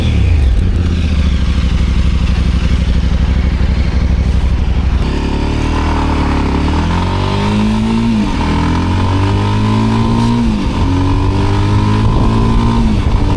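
A Voge motorcycle rides along an ordinary road with a loud, continuous engine drone and wind rush, climbing through several rising revs and gear changes about halfway through.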